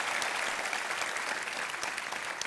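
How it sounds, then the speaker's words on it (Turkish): A studio audience on a Turkish television talk show claps in a continuous, even burst, fairly faint in level, lasting a couple of seconds without any voices over it. "Pekkan, Hülya Koçyiğit, rahmetli Tarık Akan bir alkış da ona gönderelim."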